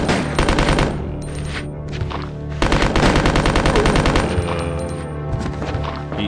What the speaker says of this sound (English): Fun with our machine gun.